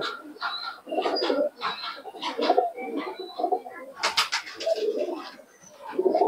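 Teddy pigeons coo repeatedly in a series of soft, throaty rolling calls close by, with a brief sharper flutter or scuffle partway through.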